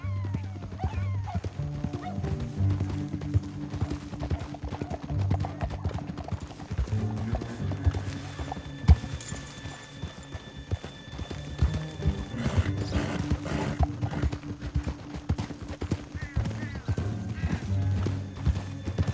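Horse hooves clip-clop steadily in a rhythmic gait in Red Dead Redemption, with occasional whinnies and background ambience from the game scene.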